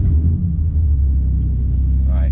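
A BMW M2 CS with a manual transmission rumbles with a deep, steady engine note, loud and close, holding an even level throughout the short stretch.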